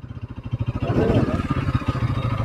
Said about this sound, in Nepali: उताबाट पनि गाडी आयो बाइक आछ स्कुटी